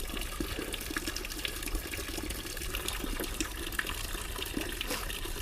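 Water gushes steadily from a dragon or turtle-shaped spout at a Muhaksan mountain site, a continuous, even splashing rush that stays close and fairly loud throughout.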